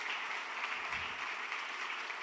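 A church congregation claps during a sermon, a dense, steady wash of applause filling the space for the whole stretch, moderately loud with no voices over it.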